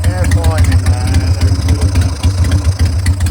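A Harley Davidson motorcycle engine idles steadily while warming up after being treated with Sea Foam, a loud low rumble with regular pulsing beats running throughout, with a person talking over it.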